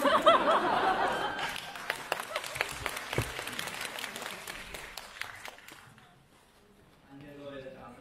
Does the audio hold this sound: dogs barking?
no